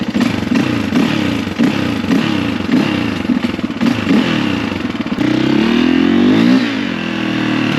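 A 2004 KTM 450exc motorcycle engine, not yet warmed up, idles loud and close with a rough pulsing chug, then shifts to a smoother rising rev near the end.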